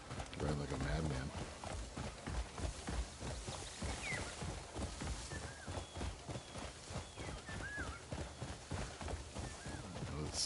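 Horse hooves in the open-world game Crimson Desert, a steady rhythmic clip-clop of a riding horse moving at a trot, continuous for about ten seconds, quiet and close under ambient game sound.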